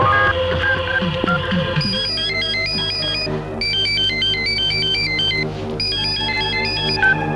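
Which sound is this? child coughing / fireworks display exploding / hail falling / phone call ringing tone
phone call ringing tone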